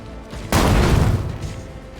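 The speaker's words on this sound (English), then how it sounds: "I can throw a grenade, see if that helps." A grenade blast in the video game Warhammer 40k Rogue Trader erupts suddenly after a quiet lead-in, a loud, broad boom that rumbles and slowly decays over the following second and a half.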